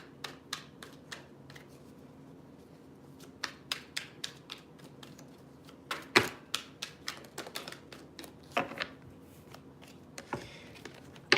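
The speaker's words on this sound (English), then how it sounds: "I've shuffled the shit out of this deck, so I'm not gonna shuffle too much" A tarot card deck being shuffled by hand indoors, producing a run of quick, crisp card riffles and taps in irregular bursts, fairly close and quiet, with no talking.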